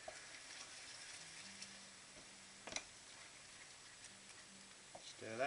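Chopped tinned tomatoes are stirred into a spiced tomato puree sauce in a pan, with soft, quiet sizzling and gentle scraping and a few light knocks of the spoon.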